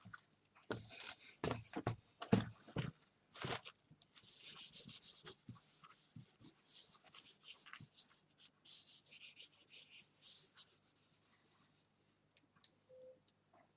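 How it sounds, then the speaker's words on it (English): Wet transfer paper is rubbed off a canvas with cold water, close scratchy rubbing strokes in irregular bursts that thin out toward the end, no talking. "we're going to rub this top layer of paper away"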